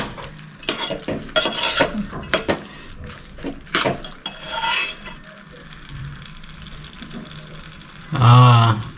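Moong dal being stirred in a pot in a village kitchen, with scraping and bubbling sounds rising and falling across the clip and a brief louder clatter near the end.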